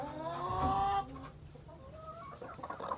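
Chickens cluck and call inside a roomy hen house with roosts on a hot day, a loud drawn-out squawk up front followed by softer, scattered clucks nearby.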